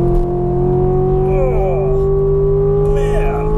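A 2017 Chevrolet Corvette Grand Sport pulls hard out of a corner, its engine holding a loud, steady drone that climbs slightly in pitch, with faint tire noise briefly overlapping partway through.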